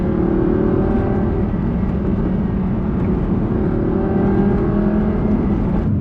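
Audi R8 5.2 V10 Plus engine revving, a loud, continuous V10 drone with its tone climbing steadily through the revs, close and alone without any talk.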